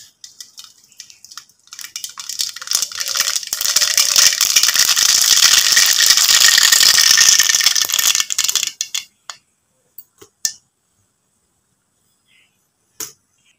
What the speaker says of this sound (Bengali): ফোড়নে আমি সরিষা দিয়ে দিব।